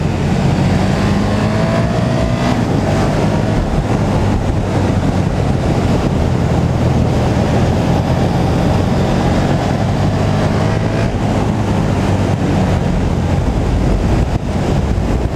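KTM 1290 Super Duke R 2017 motorcycle ridden on an open road in sport mode, a steady loud engine drone heavily buffeted by wind rush across the whole stretch, with no talking.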